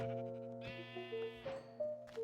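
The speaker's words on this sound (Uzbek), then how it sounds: "Bizga ovqat uchun mana bu yerda qo'y va sigirlarni boqib qo'yishgan ekan" Sheep in the Minecraft video game bleat in a few wavering, nasal calls, close and clear, with short gaps between them and no talking.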